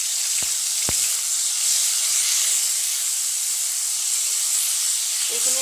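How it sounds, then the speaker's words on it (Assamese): Dry fish frying until crispy in a pan gives a loud, unbroken sizzle and hiss, with a couple of faint knocks near the start. "এইখিনি একদম মই কৰকৰীয়াকে ভালকে ভাজি লম"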